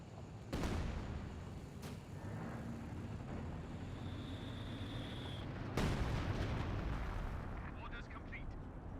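A bundle grenade going off in the World War II strategy game Company of Heroes 2: two sharp, booming blasts several seconds apart amid a rumbling battlefield, with a commentator talking throughout.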